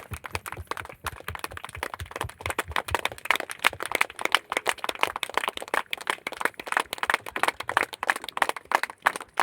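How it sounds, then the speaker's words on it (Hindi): A standing audience at an event opening applauds the Royalty Achievers on stage, with strong rhythmic unison clapping that beats steadily and loudly throughout, close and without talk. "एक बार जोरदार तालियां।"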